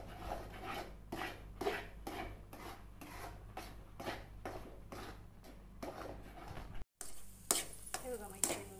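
A spoon scrapes and stirs mung dal halwa roasting in ghee in a pan, rhythmic rasping strokes about twice a second, close and fairly quiet, ending with a brief sizzle.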